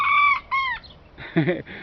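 A small bantam rooster crows twice in short, high-pitched bursts, followed by a louder, rougher crow-like call, close by on an organic farm with no talking.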